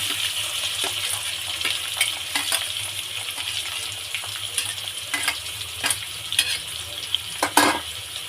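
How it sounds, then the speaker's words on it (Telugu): Green onions sizzle and fry in hot oil for chicken curry, with a steady crackling hiss broken by repeated scraping, clinking strokes of a spoon stirring the pan. "ఆల్రెడీ ఆయిల్ వేడెక్కింది. ఇప్పుడు గ్రీన్ ఆనియన్స్ యాడ్ చేసుకోవాలి."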